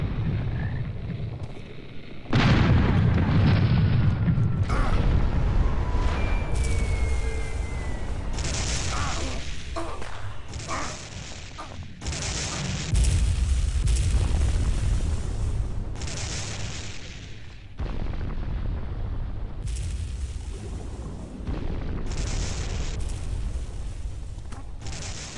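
Cannons boom repeatedly aboard airships in the video game Air Buccaneers, heavy low blasts recurring every few seconds over rushing wind, with voices shouting in between.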